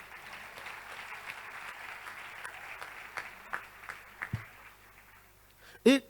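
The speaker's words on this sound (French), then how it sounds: "Alléluia, on peut acclamer le Seigneur." A congregation claps in praise at a church gathering. The rhythmic clapping is fairly soft and fades into a few scattered claps, and a voice sounds briefly near the end.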